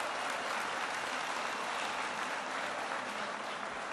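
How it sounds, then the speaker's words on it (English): Steady, dense audience applause fills the whole stretch at a visit to a precision metal stamping facility in Howell, Michigan, with no voices breaking through. "Let's give them an applause."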